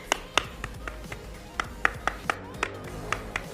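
A finger raps about fourteen times on the solid plastic body of a two-year-old Kyoritsu 2007R clamp meter, giving sharp, hollow clicks in a fairly even rhythm, close by and with nothing else over them.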